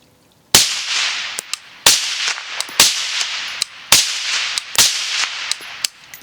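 Shots from a suppressed 5.56 gas-operated rifle ring out close and loud, five sharp cracks spaced about a second apart, each with a short ringing tail and small clinks between them.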